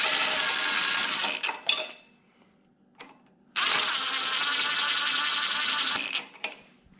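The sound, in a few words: impact gun running in cylinder head bolts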